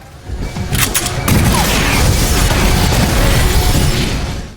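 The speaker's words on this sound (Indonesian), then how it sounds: "John dengan sigap mengambil senjata di sana dan meledakkan mobil Henry." A car blows up in an action film scene, a loud sustained explosive roar with crackling debris that begins after a short lead-in and fills the rest of the clip before cutting off.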